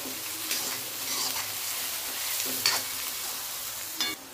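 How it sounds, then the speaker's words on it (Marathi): Garlic and ginger paste frying in a pan, a continuous soft sizzle with occasional spoon scrapes and clinks from stirring, no one talking. "हे 1 चमचा लसूण पेस्ट छान असं भाजून घ्यायचंय"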